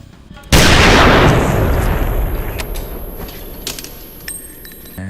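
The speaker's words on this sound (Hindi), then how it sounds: "उसने खुद ही अपने मुंह में गन रखी हुई है और वो गोली चला देता है।" Single loud gunshot from the 1999 film Fight Club, a sharp blast followed by a long decaying boom and rumble, with faint clicks trailing after.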